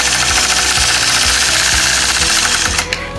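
Machine quilting on a sewing machine, stitching a straight crosshatch line across a quilt block with gentle pressure; steady, loud mechanical whirring with regular needle thumps, close and continuous, easing off near the end.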